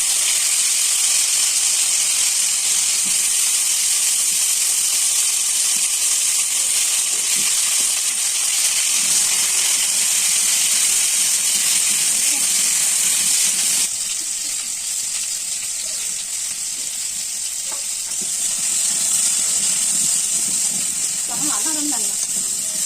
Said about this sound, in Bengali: আলু ভাজা শুরু করে দিয়েছে